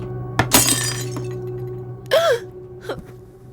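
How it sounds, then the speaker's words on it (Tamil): Glass breaks inside a house with a sudden sharp crash, followed by a few scattered clinks and a brief wavering cry, all close and fairly loud. "உங்க வீட்ல இல்ல, எங்க வீட்ல கிளாஸ் உடைஞ்சிச்சு"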